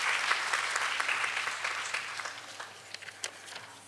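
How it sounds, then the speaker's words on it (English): Audience applause at a Rotary and BSE entrepreneurship seminar, a dense round of clapping that thins out toward the end into a few scattered, sharper individual claps. "Please welcome him with a big round of applause, sir."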